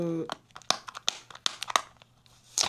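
Sealed package of Korean face cream being opened by hand, with crinkling plastic and sharp tearing crackles in irregular bursts, close and fairly loud, after a brief spoken word at the start.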